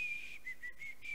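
A man whistles in imitation of someone whistling while brushing their teeth: a thin, high, wavering whistle in short broken phrases, close and fairly quiet.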